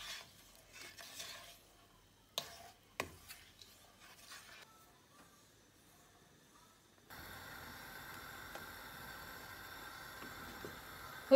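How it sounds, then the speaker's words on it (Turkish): Spoon stirring a höşmerim cheese dessert mixture with eggs in a pot on the stove, scattered scrapes at first, then a steady soft bubbling sizzle with no talk. "Karıştırarak pişireceğiz."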